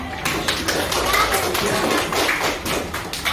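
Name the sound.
audience clapping hands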